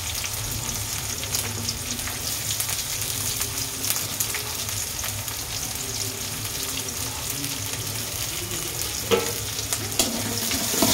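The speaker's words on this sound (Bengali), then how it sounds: "পেঁয়াজ মরিচগুলো ছেড়ে দিলাম, হালকা ভেজে নেব।" Onions and chilies sizzle steadily in hot oil left from frying fish, a continuous close crackle and hiss that runs throughout with no talking.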